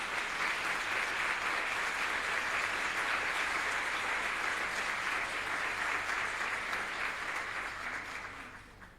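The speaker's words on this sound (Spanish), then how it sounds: "un fuerte aplauso para todos los asistentes" Conference audience applause, a dense sustained roar of many hands clapping continuously before tapering off at the end.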